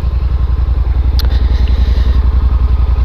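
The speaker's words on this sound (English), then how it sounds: "And just starting the bike, I like to let it idle for a little bit." A Yamaha Super Tenere motorcycle engine idles steadily at a campsite, its low, even throb filling the clip loudly and close, with a brief metallic clatter partway through.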